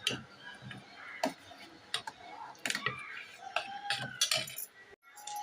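Crushed cardamom powder being stirred into a pot of lentil payasam, a spoon scraping and clinking against the vessel in a string of irregular ticks and knocks, close and moderately loud.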